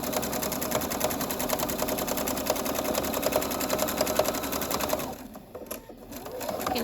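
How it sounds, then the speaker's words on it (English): A sewing machine runs steadily, stitching a cloth mask with an even, fast mechanical whir close up, then pauses briefly near the end before starting again. "Now it's just regular sewing."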